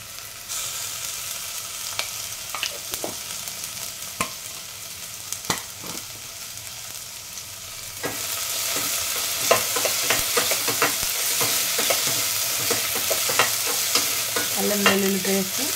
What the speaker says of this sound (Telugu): అల్లం వెల్లుల్లి పేస్ట్ కొంచెం ఫ్రై అవ్వాలి.